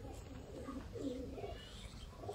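Pigeons cooing softly on a rooftop in Sialkot, a few low, rounded coos coming and going over a steady outdoor hiss, moderately distant with no one talking.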